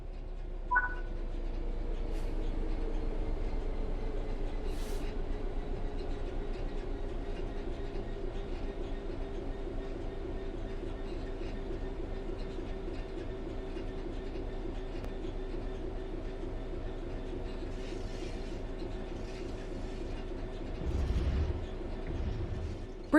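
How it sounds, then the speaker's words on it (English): A train in Train Sim World 3 coasts steadily on level ground with a low continuous rumble and faint clatter, a long even drone that swells briefly near the end. "The train will then coast on level ground"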